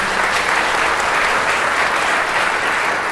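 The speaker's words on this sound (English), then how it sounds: "let's give Peter a round of applause and bring him into the room" Sustained applause from a room full of people welcoming a guest at a community gathering, a loud, continuous roar of clapping with no pauses and no voices over it.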